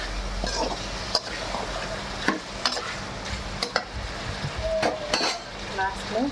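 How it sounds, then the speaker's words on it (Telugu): Spicy chicken sizzles in a pan as a spoon stirs and scrapes it, with frequent metallic clinks and taps against the pan over a continuous frying hiss. "ఇలా రోస్ట్ చేసుకున్నట్టు నీట్గా బాగా కలుపుకోవాలి."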